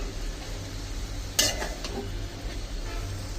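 Garlic fries in a pan, a steady close sizzle with a sharp clack of the stirring utensil against the pan and a few softer scrapes.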